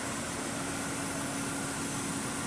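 Excavator diesel engine idling at low RPM, a steady, even drone with a faint hum, held constant throughout and heard alone without talk.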